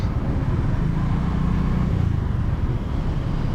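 City traffic at night around a Toyota Fortuner SUV, a constant low rumble of engines and road noise, steady and close, with no talking.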